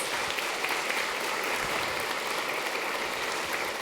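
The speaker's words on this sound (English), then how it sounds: "give Peter a big round of applause" Audience applauds a speaker named Peter after a Q&A session, a faint, distant, even wash of clapping that holds steady throughout.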